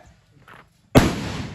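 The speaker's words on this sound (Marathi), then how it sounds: "हा आवाज मात्र कडक येतो डामकन" A single sharp, loud firecracker bang goes off during a Ganpati immersion procession in Konkan after a near-silent stretch, its crackling roar trailing off over the next half second.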